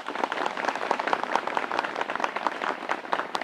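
An audience of schoolgirls claps enthusiastically in a dense, steady patter of many hands that lasts a few seconds, with no voices.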